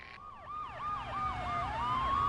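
Police car siren in the Max Payne video game, a loud wailing electronic siren sweeping up and down repeatedly in a fast yelp pattern, continuous and close.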